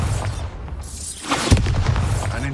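A Bombarda blasting spell goes off in Hogwarts Legacy, a sharp booming burst at mid-clip over a dense game soundscape with low rumble.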